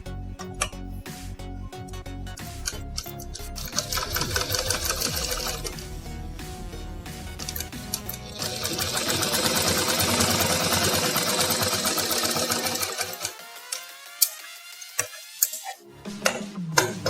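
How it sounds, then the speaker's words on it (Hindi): Sewing machine stitching the fabric seams of a circular umbrella-style palazzo, running in long steady whirring stretches with a couple of louder surges before it slows and stops near the end. "अब इस सिलाई को भी हम पूरा कर देंगे।"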